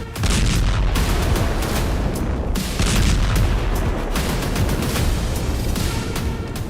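Heavy bomb blasts from Israeli airstrikes in Syria, a dense continuous barrage of booming explosions and rumbling detonations, loud and sustained with no clear gaps.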